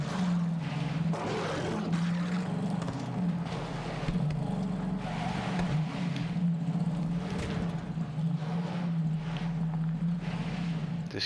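Engine of a mega-wheeled car in the video game Borderlands 3 drones with a steady low roar throughout, swelling slightly in revs, loud and continuous with no talk over it.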